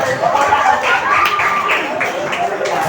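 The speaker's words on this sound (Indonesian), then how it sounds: "Jangan lupa beri tepuk tangan buat Mas Arta." An audience in a classroom guidance session claps in a short, steady burst of scattered hand claps, close and moderately loud, with a murmur of voices underneath.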